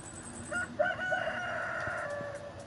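Chickens cluck and a rooster crows in a PS4 video game, a single drawn-out crow rising over soft clucking, fairly close and heard alone without talk.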